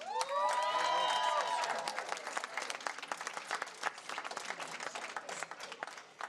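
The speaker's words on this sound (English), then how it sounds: "So please give them a round of applause." Audience at a Colorado Democratic midterm election watch party breaks into loud applause with cheers and whoops, the clapping thinning out and fading over several seconds.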